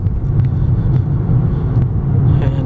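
A 2022 Ford Maverick Lariat cruising along twisty, turning roads gives a steady, close cabin rumble of engine and road noise that stays constant and unbroken throughout.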